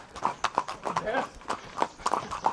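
Horse hooves clip-clop at a steady walking pace on a horse safari ride on the way to Kumbhalgarh fort, close and rhythmic, with a voice talking over the hoofbeats.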